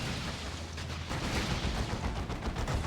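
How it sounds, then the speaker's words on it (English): A heavy bolter turret firing in the Dawn of War 2 video game, a dense rumbling barrage of gunfire blended into battle noise, steady and loud throughout. "There's a heavy bolter turret then."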